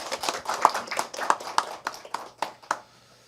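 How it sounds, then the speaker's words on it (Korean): Sparse, separate hand claps from a small audience at a university industry-academia forum, about a dozen sharp claps at an uneven pace, faint and fairly close, fading out near the end. "총장님께 큰 박수 부탁드립니다"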